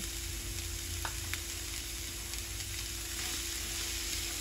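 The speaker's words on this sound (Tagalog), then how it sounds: "Gisa-gisa lang mga kabeshi." Green chili sautés in a pan for bangus sisig, a soft, steady sizzle close by with occasional light clicks of stirring and no talking.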